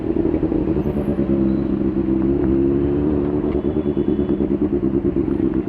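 A Benelli 600i superbike rumbles steadily close by as it is ridden, a deep, even four-cylinder drone with slight throttle pulsing and no talk.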